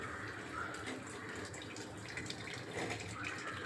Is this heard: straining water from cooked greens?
yes